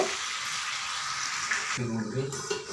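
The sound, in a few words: stirring chicken feet curry sizzling in a pan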